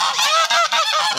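A short, loud blast of geese honking up close, several birds calling over one another in rapid, raspy squawks.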